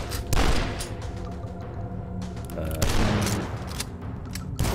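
Heavy gunfire from many weapons in the retro shooter DUSK, with dense overlapping shots and booms that arrive in loud bursts around the half-second and three-second marks, then continue as a steady, cluttered barrage.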